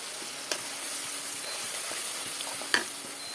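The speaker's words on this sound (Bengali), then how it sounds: "এটাকে আমি ভালো করে কষিয়ে নেবো।" Tomato, onion, cumin, chili powder, turmeric and salt masala for a prawn curry sizzles steadily in a frying pan, a constant close hiss broken by two sharp clanks of stirring.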